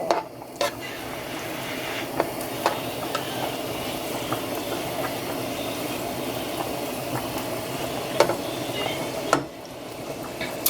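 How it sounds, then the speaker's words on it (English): Shrimp fry in a pan with a generous amount of oil, cooking for a chicken and shrimp Alfredo: a steady close sizzle and bubbling crackle, with a few sharp clinks and taps of a utensil against the pan. "These will start frying up shortly."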